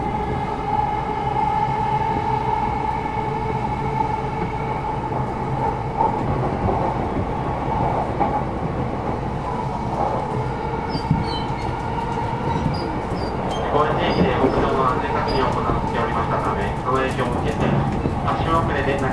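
A JR East E233 series train runs on the Chuo Rapid Line, with a steady rumble of wheels and motors under a Japanese onboard announcement, then rising clatter and brake squeal near the end.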